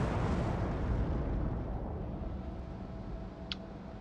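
Main guns of the battleship Tirpitz fire in a naval video game, a loud, sustained broadband boom and rumble that fills the whole clip and slowly eases off, with no voices over it.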